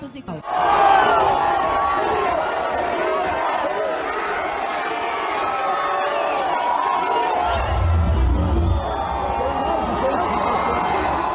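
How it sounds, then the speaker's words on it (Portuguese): Dense crowd noise from a large gathering dressed in green and yellow at the Esplanada dos Ministérios in Brasília during Brazil's Independence Day celebration, with sustained shouting and cheering, near and loud throughout and a rumbling low swell late on. "Uma multidão em verde e amarelo tomou conta da esplanada dos ministérios."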